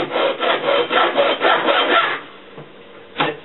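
Soft aluminum sheet being cut by hand with a saw, a close series of rhythmic rasping strokes for about two seconds, then a pause and one more short stroke.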